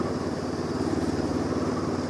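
A Honda CL500 motorcycle cruises in sixth gear on a mountain pass, its engine and exhaust giving a steady, even drone at constant revs, close and continuous.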